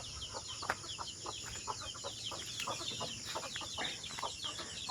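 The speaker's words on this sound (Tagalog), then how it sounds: "Yan yung mga sisiw natin, oh." Young chicks on a farm peep in a busy, continuous chorus of high, thin chirps, with faint clucking from grown chickens underneath.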